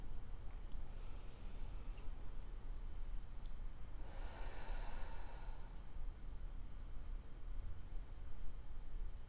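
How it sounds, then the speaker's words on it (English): During a guided meditation, a single slow, deep breath rises softly mid-way through, a brief airy rush over a faint steady room hiss, with quiet stretches on either side. "just take a couple of deep breaths with me"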